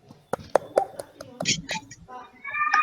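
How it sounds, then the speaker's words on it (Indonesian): A small group in a peer-teaching session gives a few scattered, sparse claps for a teacher, individual hand claps close by, followed by soft voices talking. "Tepuk tangan untuk Pak Tio dong."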